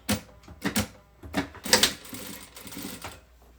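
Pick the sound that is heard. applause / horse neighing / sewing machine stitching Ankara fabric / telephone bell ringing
sewing machine stitching Ankara fabric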